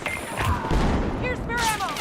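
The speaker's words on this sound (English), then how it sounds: "Oh, he's using the shotgun." Shotgun fire in a video game, heard as loud, dense booming blasts that roll into one another amid battle noise, with shouted voices in the background.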